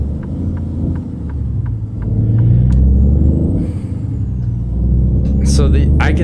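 Heavy engine of a Western Star 4900FA truck in American Truck Simulator, a deep steady rumble building as it accelerates onto a highway, loud and continuous, with someone talking over it and a short hiss near the end.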